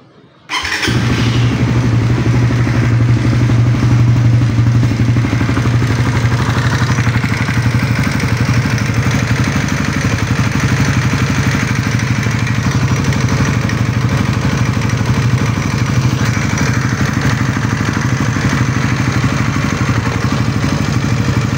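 A 2024 Yamaha Raider 150 Fi motorcycle, fitted with an aftermarket CNC oil filter cover, starts after a brief silence. It settles into a loud, close, steady idle with a busy mechanical rattle that runs for about twenty seconds, with no talk.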